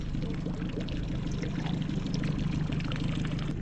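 Tide water rushing into a small creek among rocks at Port Smith in the Kimberley, a steady close-up wash and pour of flowing water that runs without a break the whole time.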